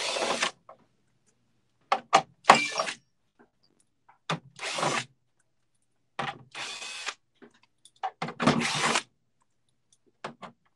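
Power drill in short repeated bursts backing out 1/4-inch screws from the panel of a Maytag dryer being repaired for not heating, about six whirring runs of a second or less with quiet gaps between, close and clear with no talking.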